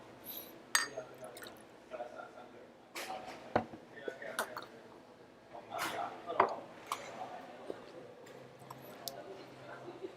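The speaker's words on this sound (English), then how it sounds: "Give me a little bit of water." Water poured into a glass at home, heard as soft splashing and trickling with a few clinks, moderately close, under ongoing talk.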